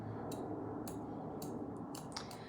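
Scissors cutting hair at an angle during a haircut, heard as a series of short, crisp snips spaced roughly half a second apart and growing quicker toward the end, close but quiet over a steady low background hum.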